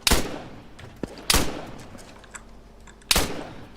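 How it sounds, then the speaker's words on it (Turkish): Arma 3 gunfire: three loud, sharp shots ring out close by, spaced irregularly, each trailing off with an echoing tail, with a fainter pop between them. "Yakından bir ateş sesi geliyor"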